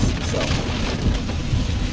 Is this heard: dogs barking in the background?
no